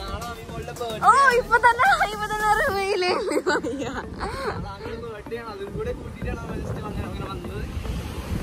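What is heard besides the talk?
strong wind at a beach resort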